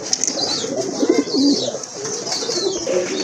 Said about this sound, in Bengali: এক জোড়া মুখী কবুতর